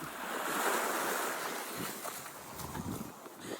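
Ocean waves wash against the shore, a broad steady rush of surf with gusty, wind-buffeted swells, fairly close and continuous.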